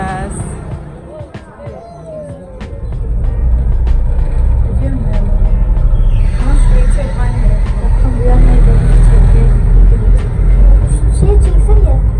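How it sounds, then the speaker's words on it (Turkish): Road traffic swells as cars pass nearby in Istanbul's Haliç (Golden Horn) area, a rising engine and tyre roar that stays loud and steady, with distant voices murmuring in the background. "Arabalar geçiyor."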